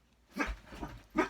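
A pet dog barks indoors, reacting as if someone were at the door, with a few soft, muffled barks and whimpers heard faintly from another room.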